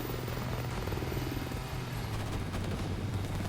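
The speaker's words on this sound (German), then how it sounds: "Heli auf 12 Uhr!" A helicopter in Call of Duty Modern Warfare Remastered drones with a steady, continuous rotor and engine roar, moderately loud and unbroken for the whole stretch, with no talk over it.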